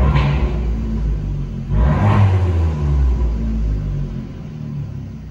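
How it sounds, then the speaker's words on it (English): A Fiat 500 Abarth engine idling close by, a steady low rumble with a brief swell in revs near the start and again around two seconds, then smooth and even. "So everything idles fine, runs nice and smooth."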